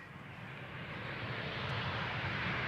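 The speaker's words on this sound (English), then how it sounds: "a Transavia 737 just touched down" A Transavia Boeing 737 touches down on runway 18R at Amsterdam Schiphol Airport, a steady broad engine rumble growing gradually louder in the distance, with no talking.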